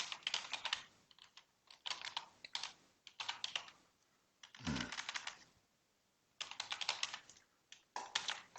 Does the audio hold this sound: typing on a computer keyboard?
yes